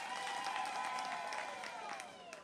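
A rally crowd gives faint, distant applause as a sustained patter, with an amplified voice ringing underneath that fades out toward the end.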